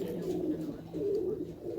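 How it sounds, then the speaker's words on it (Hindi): Pigeons in a healthy loft flock coo steadily, a low continuous murmur of overlapping calls rising and falling close by, with no talk over them. "पूरे माशाल्लाह सेहतमंद कबूतर है।"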